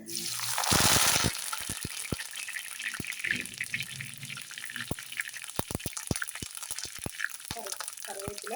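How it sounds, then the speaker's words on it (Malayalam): Curry leaves crackle and sizzle in hot oil for egg roast, a loud burst at first settling into scattered sharp pops and a soft steady hiss. "നല്ല വൃത്തിയായിട്ട് കറിവേപ്പില വറുത്ത് വരിക."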